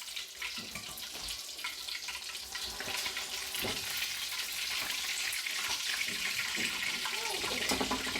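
Fish fries in a pot of oil, giving a dense, fairly quiet crackling sizzle that swells slightly over time, with occasional soft bubbling pops.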